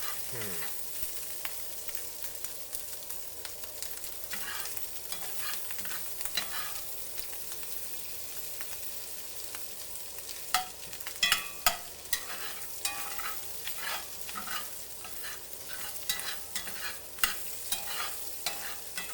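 About half a stick of butter, four tablespoons, melts and sizzles in a cast iron skillet, a steady low fry broken by scattered clinks and scraping stirs.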